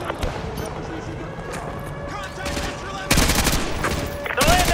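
Gunfire in Call of Duty on PS5 during a rooftop firefight, with sustained bursts of shots that grow louder and denser toward the end, mixed with radio-style voices calling out contacts.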